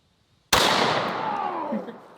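A single 4-bore rifle shot into body armor: one sudden, very loud close blast with a long rolling, fading tail and no talk over it.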